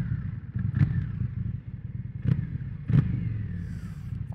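Indian FTR 1200 motorcycle engine at night in Belgrade, a steady low rumble with three sharp throttle blips swelling briefly out of the idle, close and fairly loud, no talk.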